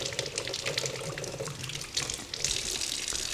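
Tap water runs steadily as a Hamilton Beach juice press tray is rinsed under it, a close, continuous splashing stream with slight shifts in flow and no voices.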